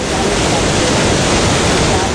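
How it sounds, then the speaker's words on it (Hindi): Water plunging from a 300-foot waterfall on a mountainside roars as a loud, unbroken wash of broadband noise with no pauses. "300 फीट की ऊंचाई से पानी की तेज धार नीचे गिर रही है।"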